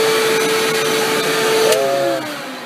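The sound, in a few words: vacuum cleaner vacuuming upstairs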